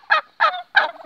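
Turkeys gobbling on a farm in the morning: three quick, loud, close bursts of gobbling in rapid succession, with no talk.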